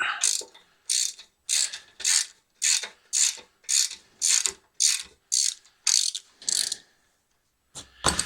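Rapid ratchet clicking in about a dozen short, evenly spaced bursts works the muffler bolts loose on a Gravely Pro-Turn 152 commercial mower, close and crisp, then a pause and a final burst; no voices.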